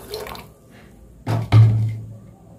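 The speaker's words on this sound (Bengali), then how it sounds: "আমি বাটিটা বসিয়ে দিয়েছি, এতে পরিমাণ মতো জল দিয়ে দেব।" Water is poured into a bowl to boil mung lentils and potato, a brief close splash and trickle, preceded by soft handling noises.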